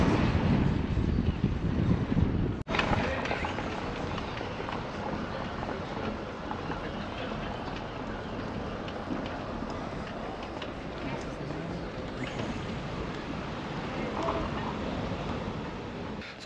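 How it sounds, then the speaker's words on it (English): Cold, brisk wind sweeps across hills in Wales near Caernarfon, buffeting the microphone as a steady, close, blustery rumble for the whole stretch, with one sharp break near the start. "because we're up in the hills a bit, you can feel that briskness of the wind."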